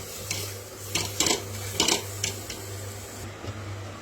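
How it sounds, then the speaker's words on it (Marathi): Half of a batch of homemade mawa being roasted in a pan for halwa and stirred, giving intermittent scraping and metallic clinks of the spoon against the pan over a steady low hum, with no talking. "त्याचे मिश्रण चांगले भाजून घ्यायचे आहे।"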